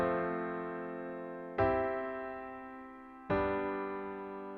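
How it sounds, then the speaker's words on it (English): A progression of three sustained triad chords from FL Studio, each struck cleanly and left ringing to decay before the next, quiet and with no talking. "we have a progression of triad chords that sound like this"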